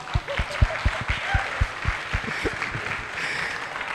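Audience applause fills a film event, a crowd clapping loudly and steadily with sharp, rhythmic individual claps standing out over a broad murmur for the whole stretch.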